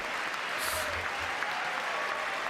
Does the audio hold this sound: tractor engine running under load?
no